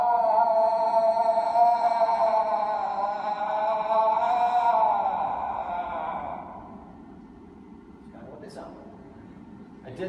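A man vocally imitates a female moose cow call, giving one long, drawn-out nasal moan that wavers and slowly fades, close and fairly loud.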